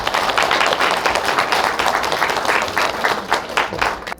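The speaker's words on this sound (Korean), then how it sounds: "여러분 따뜻한 박수 부탁드립니다" Studio audience at a Korean talk show giving warm applause, a dense, steady clapping that stays loud for several seconds without talk.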